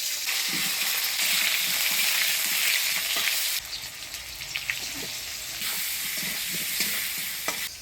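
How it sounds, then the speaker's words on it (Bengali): Potato pieces sizzle and crackle in hot oil tempered with green chilli and nigella seeds, with steady frying hiss and occasional stirring scrapes close by. "ফোড়নের তেলে আলুটা ভাজা ভাজা করে নিলাম"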